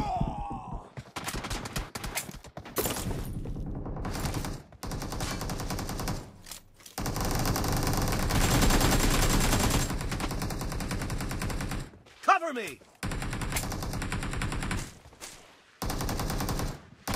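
Gunfire in an online shooter video game: rapid bursts of automatic fire and scattered shots, loud and dense, broken by short pauses, with game voice callouts mixed in.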